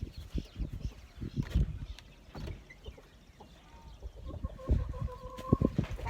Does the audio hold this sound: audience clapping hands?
no